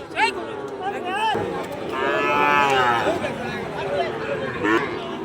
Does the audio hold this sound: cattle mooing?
yes